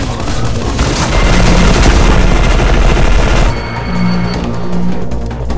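An automated turret in E.Y.E. Divine Cybermancy fires loud, rapid sustained bursts for several seconds, then drops to quieter intermittent shots under a low rumble.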